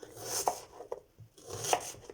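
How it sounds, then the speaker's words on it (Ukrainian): A knife slices through onion on a cutting board, several soft crunchy cuts with light taps, close and fairly quiet. "Цибулю нарізаю чверть кільцями."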